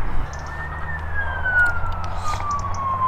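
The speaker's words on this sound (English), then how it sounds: "There are fire engines going up and down the main road" A fire engine siren wails steadily and fairly loud, its pitch sliding slowly downward over a low rumble of traffic on a main road.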